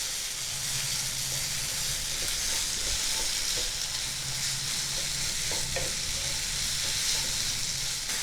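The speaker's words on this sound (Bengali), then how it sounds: "ডালটা ভালো করে আমি তেলের মধ্যে ভেজে নেব" Dal fries in hot oil in a pan, a loud continuous close sizzle with frequent scraping stirs and clinks throughout.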